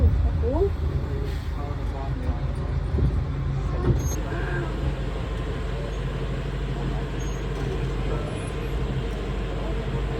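Steady road traffic as cars pull out onto the road beside a seaside promenade at Llandudno beach, a continuous loud low rumble of engines and tyres with a few passing vehicles, plus faint talk in the background.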